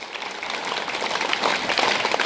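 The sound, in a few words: students applauding their teachers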